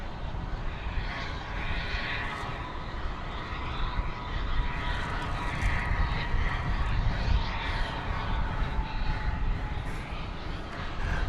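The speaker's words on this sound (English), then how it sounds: "It's American Flight 2213 from Los Cabos in Mexico, an Airbus A321" An American Airlines Airbus A321, Flight 2213 arriving from Los Cabos, rumbles past at Dallas Fort Worth airport with a steady, loud, broadband engine roar that holds for the whole stretch without fading.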